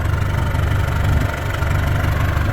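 A Kubota diesel swapped into a Willys Jeep idles steadily at close range, a continuous low rumble with shaking vibration and no pauses.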